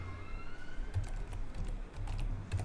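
Typing a command on a laptop keyboard to fix a Windows 11 battery that won't charge, heard as quick, close key clicks over a steady low hum, with a faint siren wailing in the background.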